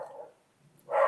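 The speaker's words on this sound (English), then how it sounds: "you can probably hear my dog in the background" A pet dog barks in the background at home, two short muffled barks separated by a brief pause, fairly close but not loud.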